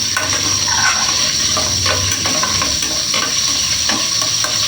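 Salmon sautés in a pan, a loud, continuous close sizzle with stirring scrapes and light clinks throughout, no voices.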